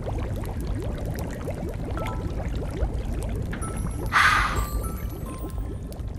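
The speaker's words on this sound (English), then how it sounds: "pour potion" A potion being poured in the Sally game, a short splashy pour of liquid rising over soft, continuous game ambience.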